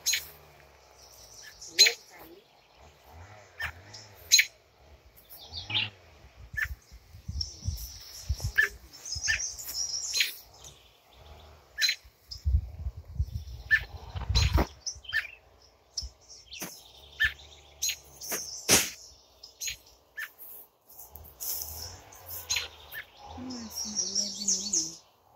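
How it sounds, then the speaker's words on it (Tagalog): Many birds chirp outdoors on a day trip in Alberta, Canada, with scattered tweets and calls near and far, some brief noises and occasional talk between them. "So, ang daming ibon dito."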